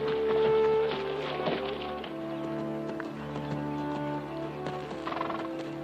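Horses in a 1979 historical war drama clip-clop on hooves while one neighs loudly near the start, with tonal music and mixed effects running underneath throughout.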